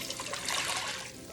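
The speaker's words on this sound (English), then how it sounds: "I'm gonna pour in my water" Water poured into a cooking pot on a heated stovetop, a steady broadband splashing rush that holds continuously and fairly loud for about a second and a half with no talk.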